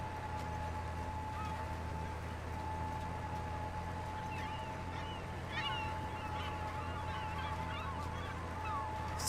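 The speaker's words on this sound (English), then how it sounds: "those gulls are enjoying it" Seagulls cry in a farming video game as barley seed is sown, their scattered squawks rising mid-clip over a steady, droning machinery hum.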